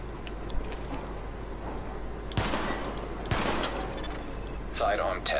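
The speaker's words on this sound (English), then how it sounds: "Weapon test initialized. Open fire at the highlighted targets." Sidearm fire at highlighted targets on a weapon test range in The Division, a few sharp bursts of pistol shots separated by quieter stretches with faint mechanical clicks.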